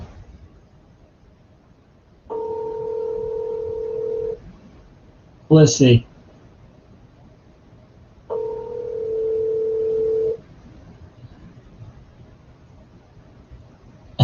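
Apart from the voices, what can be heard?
telephone dialing on speakerphone, dial tone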